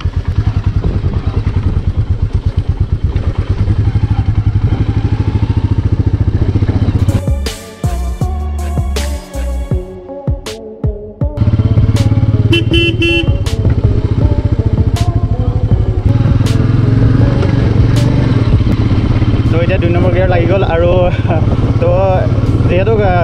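A Royal Enfield Meteor 350 with a five-speed gearbox rides slowly at night, its steady engine drone and rumble loud throughout, dipping briefly mid-ride with clattering knocks, while someone talks over it.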